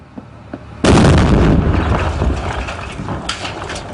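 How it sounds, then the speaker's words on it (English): Marines detonate a bomb in a house on a road in Sangin, Afghanistan; after a couple of faint knocks, one sudden loud blast hits and rolls on as a long rumbling decay. "The Marines leave the house and detonate the bomb."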